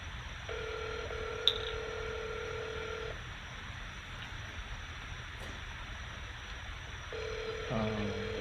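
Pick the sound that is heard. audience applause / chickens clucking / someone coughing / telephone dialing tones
telephone dialing tones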